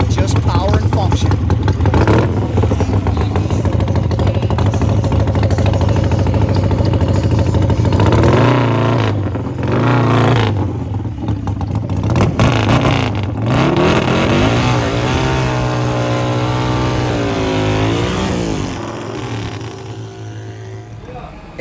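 A modified Harley-Davidson Sportster motorcycle engine idles and revs loudly and close by, a deep throbbing rumble that surges and drops in several bursts, with people talking over it in the later part.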